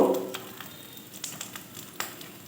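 Potato and egg frying in a pan for a sandwich, a steady soft sizzle with scattered crackles and small pops, close up, no voices.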